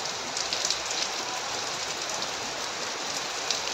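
Heavy rain pouring steadily, a dense even hiss of drops on surfaces with no breaks, fairly faint and continuous.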